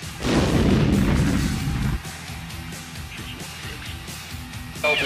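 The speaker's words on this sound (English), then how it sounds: "we've heard some explosions" A heavy, rumbling blast from a Desert Storm bombardment booms loudly on a news broadcast, then fades into a low, distant rumble with scattered crackles and a sharp burst at the end.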